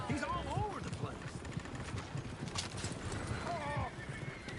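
Horses and a stagecoach in Red Dead Redemption 2 make steady clip-clopping hooves with several rising whinnies, while voices talk over the hoofbeats.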